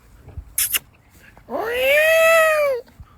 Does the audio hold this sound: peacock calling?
yes